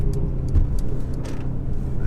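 A 2021 Mercedes GLA200 with a 1.3 litre engine driving on the road, a steady close rumble of engine and tyres with a brief bump of braking, a voice talking over it.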